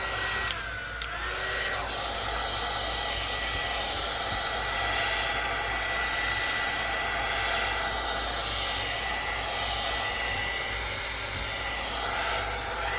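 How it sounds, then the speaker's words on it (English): A heat tool for melting away glue strings on paper-crafted vintage pocket envelopes blows with a steady, loud fan whoosh and motor hum, running continuously and close by without pause. "Let me see if my heating tool is on."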